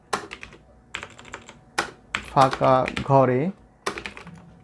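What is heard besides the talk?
typing on computer keyboard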